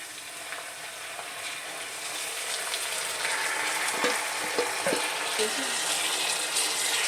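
Chicken pieces drop into a hot pan of frying ginger garlic paste, the sizzle swelling louder after they land, with a few soft clunks and stirring knocks.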